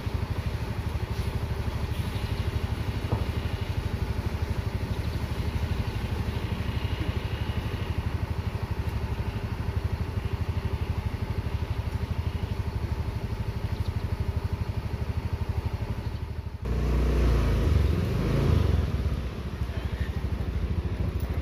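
A Sinar Jaya 63S bus engine rumbles at a bus terminal while the coach shifts to another parking spot, a steady low idle-like drone throughout that swells briefly louder near the end.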